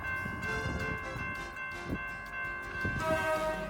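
A train passes through town as a steady, loud rumble with rising bell-like and horn tones on top, continuous for the whole stretch and sounding fairly close.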